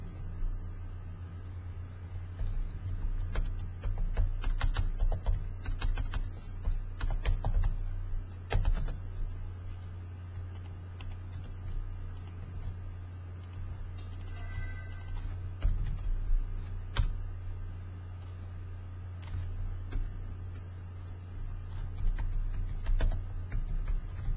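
Someone types text into a web form on a computer keyboard: quick, irregular clicks in short bursts, faint and close, over a steady low electrical hum, with no talking.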